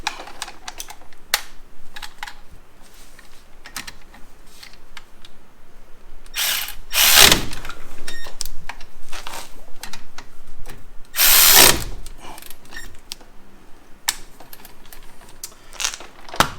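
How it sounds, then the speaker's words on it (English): A ratchet fitted with a 14 mm socket tightening the brake caliper bolts on a 2014 Kia Soul, giving quick runs of close, crisp clicks spread through the stretch with a couple of louder whirring bursts and no voices. "Take our 14 millimeter on your ratchet."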